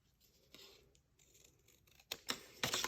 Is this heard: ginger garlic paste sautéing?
no